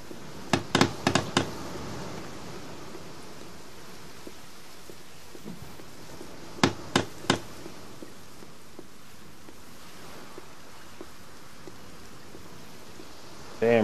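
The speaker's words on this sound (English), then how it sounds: "Damn rain." Steady rain hisses through a forest survival game, soft and constant, with a few sharp clustered bursts cutting through near the start and middle.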